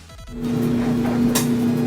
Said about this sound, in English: Yes, that's the sound of a dryer.